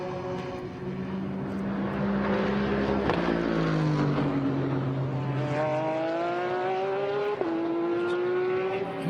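A GT race car at night practice for the Kyalami 9 Hours, exiting the final corner and running up toward the timing line: a loud, sustained engine roar climbing and shifting through gears, with no talk over it.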